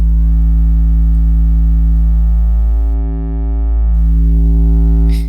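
A sustained synthesizer tone with its distortion drive pushed all the way up, a loud buzzing stack of harmonics with a brief filter-like dip and sweep midway.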